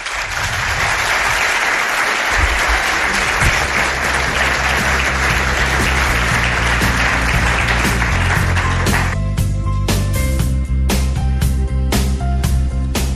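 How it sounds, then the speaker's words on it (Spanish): An audience at a live event breaks into sustained, dense applause, steady and loud throughout, with musical tones entering beneath it toward the end. "Pido un aplauso para ellos."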